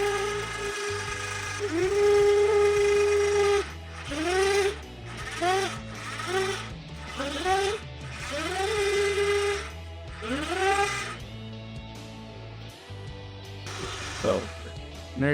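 Electric winch pulling in slack on a line hoisting a condenser up a ladder, repeated rising whines in short bursts with pauses between, loud and close, someone talking briefly.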